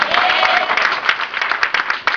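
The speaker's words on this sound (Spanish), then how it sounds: "Den un aplauso en esta mañana." A church congregation applauds during a Sunday morning sermon, a dense, steady clapping that fills the room for a couple of seconds with no talk over it.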